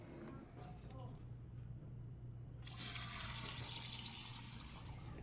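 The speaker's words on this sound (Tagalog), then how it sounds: "ready na po yung para isalin po dito sa ating garapon" Pineapple peel, water and dissolved sugar poured into a jar, a broad steady splash of liquid that swells midway and runs on close and loud over a low hum, with no voices.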